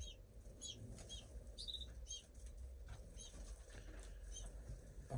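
A British goldfinch fluttering and flapping its wings inside a cage, soft repeated rustling bursts close by with a few high chirps above a low room rumble.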